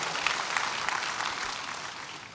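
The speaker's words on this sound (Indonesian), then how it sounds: "Beri tepuk tangan buat Tuhan." Church congregation applauding after a preacher's call, a steady dense clapping from many hands filling the room, fading slightly toward the end with no voices over it.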